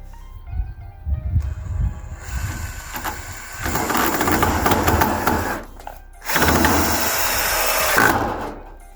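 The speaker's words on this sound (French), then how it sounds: "Allez, la dernière vis pour la première planche." Power screwdriver driving the last screw into a wooden plank while building an outdoor garden bar, a loud close whirring in two sustained runs separated by a short pause, following some rattling handling noise.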